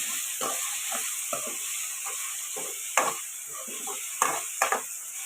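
Ridge gourd and egg curry sizzles in a pan with a constant hiss, while a spoon repeatedly scrapes and stirs, a few louder clanks near the end.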